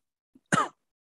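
A single short, quiet cough, preceded by a tiny faint sound, in an otherwise silent setting.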